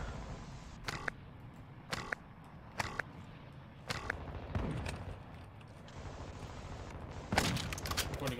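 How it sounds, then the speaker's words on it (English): Sharp gunshots ring out one at a time in a multiplayer shooter, about one per second at a steady pace, each cracking clearly over a low background rumble, with a brief louder burst of fire near the end. "Is this gun shots to my right"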